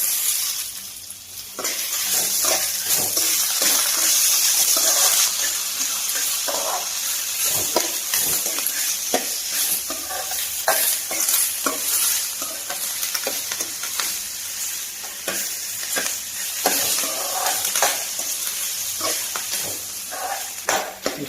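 Lentils and curry leaves fry and crackle in hot oil in a pan as they are stirred, a steady close sizzle with scraping strokes throughout, no voices.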